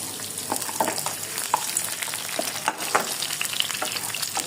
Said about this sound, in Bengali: ভাজাটাকে দেখো তুমি নেড়ে দিচ্ছি।